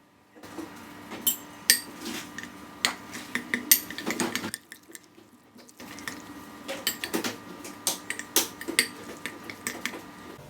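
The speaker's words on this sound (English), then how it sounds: "Now we have to mix all the ingredients." A spoon scrapes and clinks against a bowl while curd sandwich batter with ginger powder is stirred, making irregular close taps and rattles with a brief pause midway and no talking.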